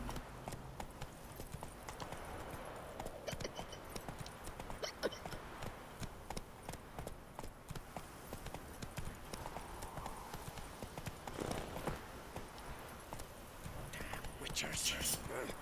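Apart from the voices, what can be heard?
horse hooves trotting in video game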